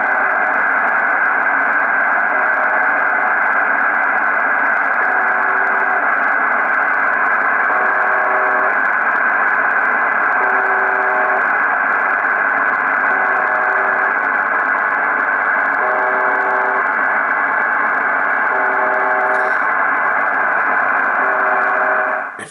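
UBV-76 station heard on a Yaesu FRG-7 receiver in upper sideband at 4.625 MHz: a steady droning hiss carrying a continuous buzzing tone, with short repeating beeps recurring at regular intervals for over twenty seconds.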